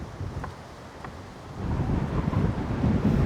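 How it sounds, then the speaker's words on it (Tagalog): Strong wind blows across a highland campsite overlooking Tagaytay and Calamba, a low buffeting roar that grows louder and gustier through the second half, with no voices. "Lakas ng hangin."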